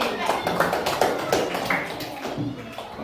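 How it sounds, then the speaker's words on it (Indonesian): A short round of clapping from a small group of participants for a girl, irregular and close, with voices mixed in among the claps. "beri tepuk tangan untuk Dewi"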